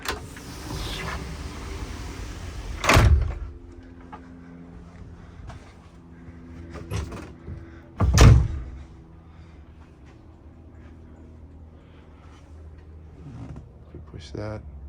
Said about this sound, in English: The door will close.